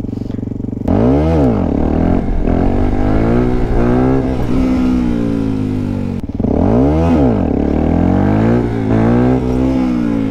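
A motorcycle revs hard and accelerates during stunt practice, its engine pitch climbing and falling in repeated loud sweeps, with a brief dip midway before another strong rising run, close and dominant with no talking.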